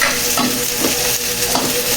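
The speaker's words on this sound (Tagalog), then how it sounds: "Pwede na natin ilagay yung ating bawang." Garlic sizzles in a pan alongside ginger, giving a loud, continuous frying hiss close by, with a few soft stirring sounds and no speech.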